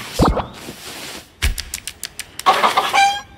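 A pet hen clucks in short bursts, a quick run of sharp clucks followed by a rising, drawn-out squawk, close and fairly loud against a quiet room.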